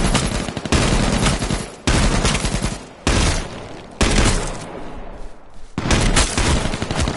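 Video game firefight with shotgun blasts and AK rifle fire, loud close bursts of rapid shots broken by short pauses, repeated several times with no talking.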